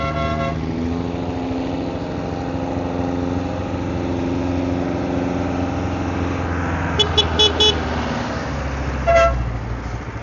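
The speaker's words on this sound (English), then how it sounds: "let's follow the jeepney up this crazy steep hill" A jeepney labors up a steep mountain road in the Philippine province, its engine droning loud and steady, with short horn toots near the end.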